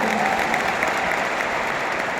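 Steady applause from the audience at the IMC UDAAN 2022 mega event, filling the whole short stretch with a dense, even wash of clapping.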